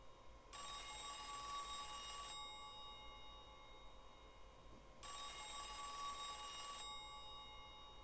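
A payphone rings in the Silent Hill video game: two separate bursts of a bright electric bell, each about two seconds long with a pause between, heard faintly with no voices.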